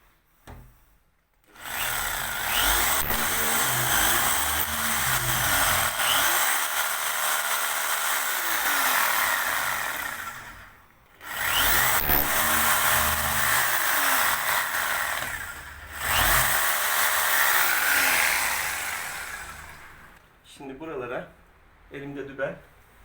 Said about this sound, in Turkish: Biz o izlerden matkap deliğini deleceğiz.